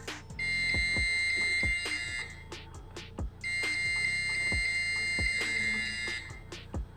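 The buzzer on a distance-sensor circuit sounds in two long shrill electronic bursts, each about two seconds. Between the bursts come sharp clicks and taps.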